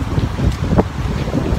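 Wind rushes past the microphone in a low, continuous roar with no voices.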